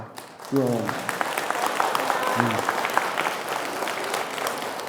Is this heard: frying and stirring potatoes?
no